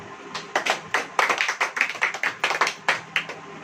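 A church congregation claps during a service: a series of sharp, close hand claps in an uneven, quick rhythm, about a dozen distinct strikes with no talking over them.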